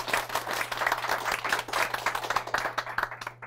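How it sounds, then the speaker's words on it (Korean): An audience at a book forum applauds a guest author, a dense and steady burst of clapping heard close. It holds for a few seconds, then tapers off at the end, and no one talks over it. "여러분 박수 부탁드리겠습니다."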